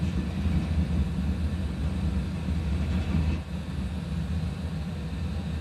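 Simulated airliner in a flight simulator game, rolling for takeoff and climbing out, a steady low engine roar with a deep rumble that dips briefly midway, heard alone without talk.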